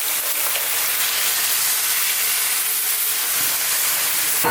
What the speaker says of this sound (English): Really simply now we're going to add some coconut milk into the mix